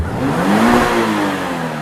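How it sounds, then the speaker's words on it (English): A Subaru BRZ engine revs steadily and close by, a continuous mid-pitched drone that rises slightly and holds under a broad layer of road and wind noise, with no talking. "this is what the Subaru BRZ sounds like"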